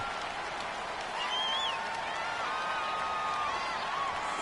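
Crowd noise from a PS4 football video game, a steady roar of cheering and scattered applause with a faint whistle-like tone, heard throughout at moderate volume with no voices over it.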